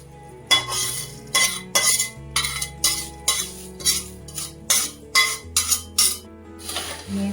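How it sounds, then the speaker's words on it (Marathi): A spoon stirs hot tempering into puffed rice chivda with roasted peanuts and coconut in a metal pan, giving about a dozen close, rhythmic clinks and scrapes at a steady pace. "आता त्याच्यामध्ये आपल्याला ही फोडणी टाकून घ्यायची"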